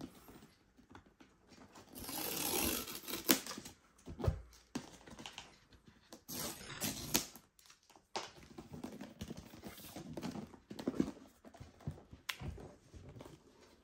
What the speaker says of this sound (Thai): โอเคแล้วมาแกะกล่องกันนะครับ